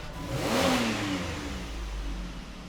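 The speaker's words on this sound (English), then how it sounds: "Accelerate to wide open throttle and release once we hit it." A car engine revved to wide open throttle during a crankshaft relearn procedure, one close rising rev that peaks and then falls back as the throttle is released, with no talking.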